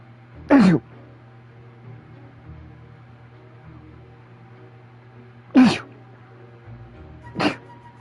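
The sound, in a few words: character sneezing in Hogwarts Legacy video game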